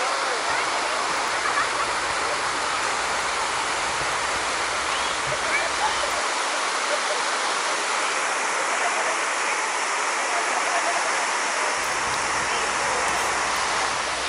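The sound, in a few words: river rapids rushing water, Nan Mot Daeng, Phatthalung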